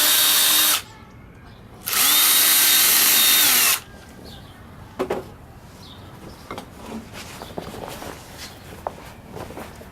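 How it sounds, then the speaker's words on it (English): A power drill whines loudly in two bursts, drilling into wood, followed by quieter handling and clattering noises. "We'll drill a couple little holes."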